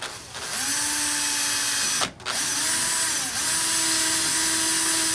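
A power drill with a 3/32 bit bores into a half-inch PVC cap, a steady high whine that briefly cuts out, spins back up and keeps droning close by, with no talking.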